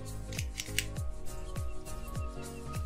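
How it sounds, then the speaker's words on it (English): A box-pressed Toro cigar is cut with a cutter outdoors behind a lounge counter, giving a series of close, sharp snipping clicks over light breeze and background hum. "the first thing before you can have a show is you have to cut and light your cigar"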